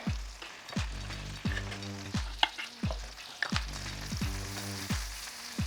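Grated garlic frying in melted butter crackles in a pan, with a series of rhythmic, squeaky scraping strokes repeating roughly every half second, close and alone with no voices.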